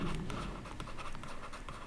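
A marker or chalk scratches across a classroom board in quick, short strokes, close and fairly quiet, with no talking over it.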